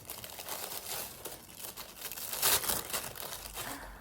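Crinkly crumpling and tearing of taped packaging during an unboxing, close and continuous, with a sharper rip near the middle and no talking.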